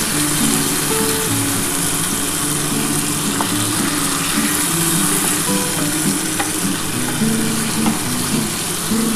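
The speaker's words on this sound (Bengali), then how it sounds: "দেখো, মশলা দিয়ে মাছটা কিন্তু ভাজছি" Fish fries with spice masala in a pan, a loud, steady, continuous sizzle and crackle that runs without a break and with no talking.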